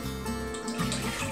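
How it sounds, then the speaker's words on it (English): Water pours into a cooking pot in a home kitchen, a short continuous splashing stream heard up close. "I'm going to add that 3/4 of water."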